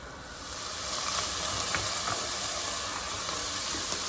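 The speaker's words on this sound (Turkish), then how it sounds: "Evet kıymalarımız kavruldu" Ground meat browns in a hot pan, giving an even, steady sizzle and hiss that stays constant and close for a few seconds with no talking.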